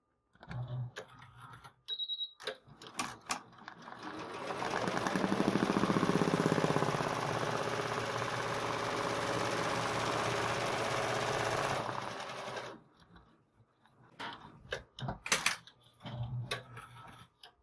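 An embroidery machine runs a guide stitch steadily for several seconds with a rapid, even mechanical stitching rhythm, framed by quieter clicks and handling sounds.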